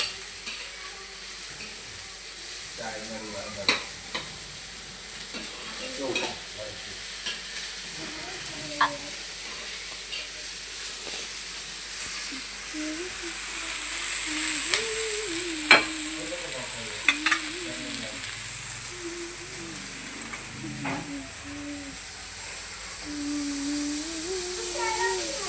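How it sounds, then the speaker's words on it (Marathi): Onions sautéed and stirred in a pan for a home-cooked matar batata flower sabji, a steady soft sizzle with scattered scraping stirs and clinks throughout, with occasional voices murmuring in the background. "आता कांदा परतून परतून परतून घ्यायचा बरं का"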